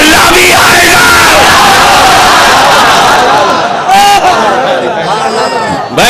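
A large crowd yells and cheers in loud, continuous bursts of overlapping voices, a dense, close roar with raised shouts rising above it throughout and a sharp rise in intensity near the end.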